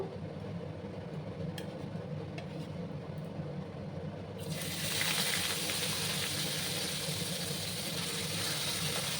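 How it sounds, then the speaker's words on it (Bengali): Fish slide into hot oil in a pan, a quiet hiss jumping into a loud, steady broadband sizzle about halfway through and holding to the end. "এবার আমি মাছগুলো ভাজবো।"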